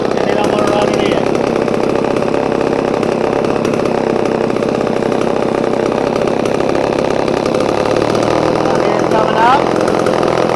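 A Vevor 62cc two-stroke engine runs loud and close with a buzzing, rattling drone while its idle screw is turned, and the pitch shifts slightly toward the end as someone talks over it.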